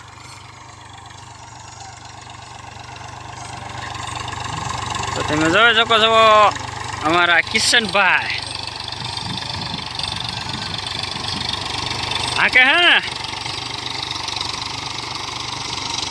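A tractor engine idling steadily nearby on a farm, a continuous low mechanical rumble running under brief stretches of someone talking.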